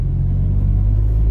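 A car approaches on a road in Ireland, a loud, close, low engine rumble holding steady throughout.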